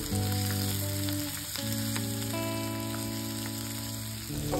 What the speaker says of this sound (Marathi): आता मी इथे पातीचा कांदा घातलाय, तो सुद्धा व्यवस्थित परतून घ्यायचा आहे।